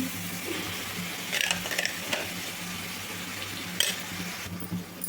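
Onion chili powder is stirred into spinach frying in a pan, giving a steady hiss of sizzling with scraping stirs and a few light clinks, close and continuous.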